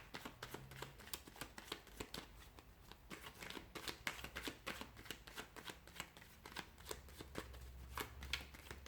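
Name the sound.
tarot cards being shuffled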